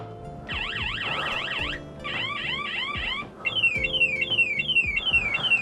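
A children's bike light toy from Action blares electronic toy sirens, first a fast warbling wail, then a choppier yelp, then repeated rising whoops, loud, synthetic and alone.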